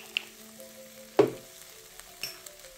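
Vegetarian mee hoon noodles are stirred in a hot pan with a single loud scrape and sizzle burst in the middle, framed by a faint steady sizzle and a couple of light taps, heard up close.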